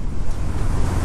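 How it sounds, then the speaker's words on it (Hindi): A strong waterfall spraying heavily over a road water crossing, heard as a loud, dense roar of rushing water mixed with wind buffeting the microphone, close and constant. "इतना तेज है ये झरना।"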